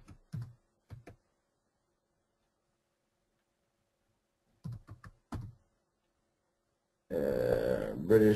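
Short bursts of computer keyboard typing come in small clusters near the start and again around the middle, separated by long silences, before a louder broadband sound takes over at the end.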